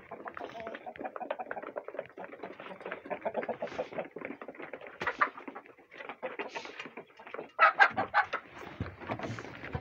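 Poultry farm chickens cluck and squawk in a busy overlapping chorus, fairly close with bursts of louder calls, and some faint human voice mixed in.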